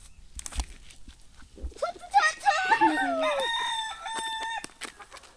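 A rooster crows loudly and close by, one long drawn-out call with rising and wavering tones, preceded by short clucks and bursts of nearby speech, with talk continuing softly around it.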